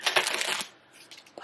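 A deck of playing cards is shuffled in a quick, close burst of riffling flutter for about half a second, followed by quieter soft rustles and a small tap.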